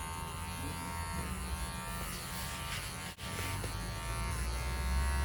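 Electric clippers shave a pet dog during home grooming, a steady, close mechanical buzz that runs throughout with one very brief dip and no talk.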